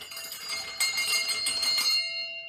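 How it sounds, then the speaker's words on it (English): A bar's closing-time bell rings steadily with bright, sustained metallic tones, loud and close, struck rapidly before letting the final ring hang and fade alone. "We have our own bell as well."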